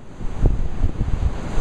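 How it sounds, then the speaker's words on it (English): Gusty wind at a warm beach buffets the microphone in a short, rough rumble, with a faint wash like surf underneath. "A little windy, but it's warm."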